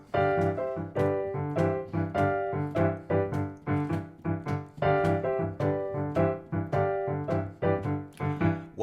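Blues shuffle groove on piano with delayed, laid-back beats, steady swung chords and bass notes repeating evenly throughout, played alone without talk.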